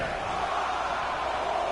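A crowd in the wrestling video game WWE 2K19 cheers in a dense, steady roar that fills the arena without breaks.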